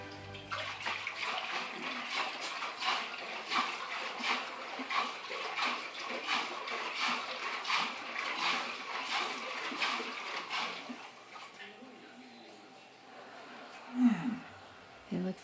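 Sugar and water shaken and stirred together for homemade wine, a steady sloshing, swishing wash of liquid for about ten seconds, close and fairly loud, then easing off to quieter stirring with a brief knock near the end.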